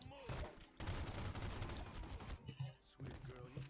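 Video game gunfire in Red Dead–style combat: dense bursts of rapid shots in close succession with short pauses between volleys, while a voice talks over them.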